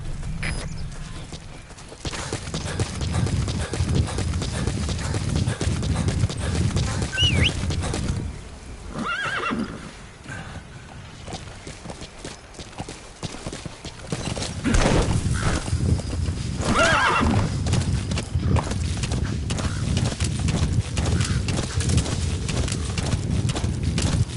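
Steady hoofbeats of a horse running with rhythmic clip-clop in Metal Gear Solid V: The Phantom Pain, loud and continuous, interrupted by a couple of neighs and a brief lull.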